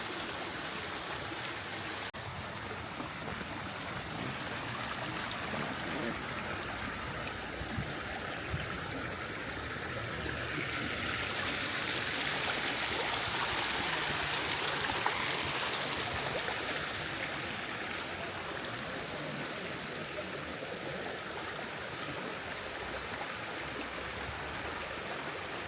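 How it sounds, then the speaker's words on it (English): Waterfalls pour through the mountain village of Orbaneja del Castillo in Spain, a steady, broad rush of falling water that swells slightly mid-way, with no voices over it. "Waterfalls, waterfalls, waterfalls."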